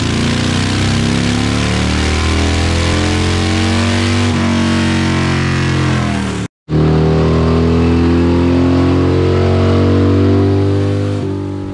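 A Harley-Davidson Sportster motorcycle revs hard on a dyno during a shootout, loud and close, its engine note climbing steadily, briefly cutting out, then surging again and holding a sustained high rev.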